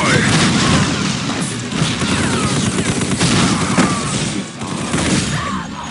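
Musket gunfire in Unreal Tournament 2004, heard as dense, loud booming shots and crashing blasts layered over continuous game action, with a brief voice line mixed in.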